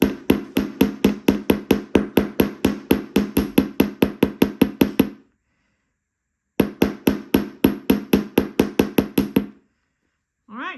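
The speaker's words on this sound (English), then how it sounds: "And hammer carefully," A hammer pounds wire against a metal bench block in two bursts of rapid, even, ringing strikes, the first lasting about five seconds and the second about three seconds, with a brief silence between them.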